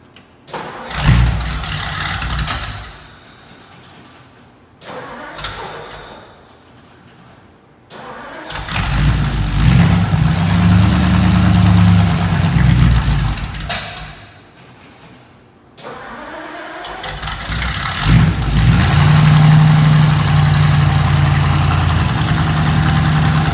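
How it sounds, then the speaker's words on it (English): A 1957 Ford Fairlane Sunliner convertible is started cold, with repeated cranking bursts before the engine catches, then a loud, close, steady idle that settles in. "one of the first things I'll be doing is just capturing a cold start, and we'll see how long it takes to crank, how it idles"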